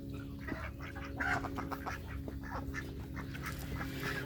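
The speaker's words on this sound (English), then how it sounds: "And this is my duck pen." Several ducks quack and chatter nearby in a continuous, fairly quiet chorus, with faint rustling in the background.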